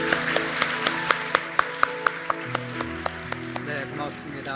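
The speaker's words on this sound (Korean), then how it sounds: "우리 하나님께 감사의 박수를 드리겠습니다." Church congregation clapping at a Sunday service, a steady beat of hand claps spread through the hall, fairly soft with organ or keyboard tones sustained underneath.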